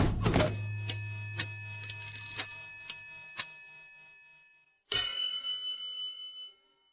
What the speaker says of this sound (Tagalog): narinig niyo ba ang tunog ng kampana?